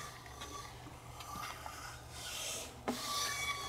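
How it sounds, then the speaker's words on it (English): A 3D-printed carbon fiber piston scrapes and rubs inside a dry, unoiled cylinder, giving a faint raspy friction sound with a few soft knocks, close and quiet with no talking. "literally that sound is just the dry cylinder"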